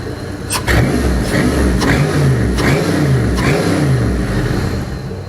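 An LS V8 engine with an upgraded LS1 cam idles with a loping, uneven rumble, running steady and loud close by with no voices.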